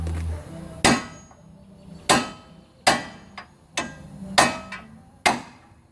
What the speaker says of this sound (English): Take the fat part of the hammer, put it on top of the screw like so. Take the big ass mallet